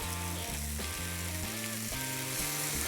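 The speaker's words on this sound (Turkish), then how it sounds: "Sebzelerim güzelce soteleniyor. Bunlara eşlik edecek bezelyelerimi de artık içerisine atıyorum." Vegetables and peas sauté in a pan for a frittata, a constant close sizzle with rhythmic stirring or tossing under a steady tonal hum, with no talking.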